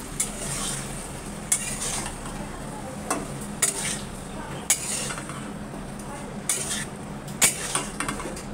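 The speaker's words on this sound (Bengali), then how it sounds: "যাই হোক, এখন সব একসাথে লাড়বো।" Fish, tomato and potato stirred together in a pan, a low background sizzle punctuated by sharp metallic clinks and scrapes of a spoon against the pan at irregular intervals.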